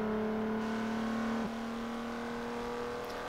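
A 3.6-litre V6 minivan engine revving in the Forza Motorsport 7 racing game, a steady, droning mid-pitched hum held at constant revs with a slight dip partway through, fairly quiet and without voices.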